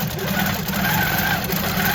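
A Handi Quilter longarm quilting machine idles in cruise mode, giving a steady, close mechanical whir with a fine rapid stitching pulse that holds evenly throughout.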